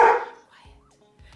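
A dog gives one sharp, fairly loud bark, then a couple of softer, low follow-up sounds.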